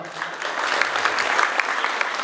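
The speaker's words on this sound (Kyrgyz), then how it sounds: "Кол чабуулар, куда" Guests at a Kyrgyz bride's farewell wedding celebration clapping together, a lively, sustained round of applause with a faint voice underneath.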